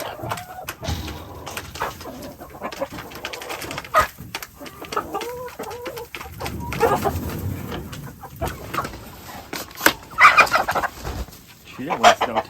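A brown chicken on an off-grid homestead in the woods clucks repeatedly at close range, mixed with other fowl calls, while people talk intermittently nearby.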